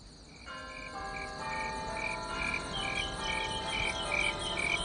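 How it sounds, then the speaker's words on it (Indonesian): Crickets chirp in steady, repeating pulses against a soft, continuous background hum, fairly faint and without any voices. "Jangkrik yang biasanya tak pernah berbunyi, tiba-tiba nyaring bersahutan."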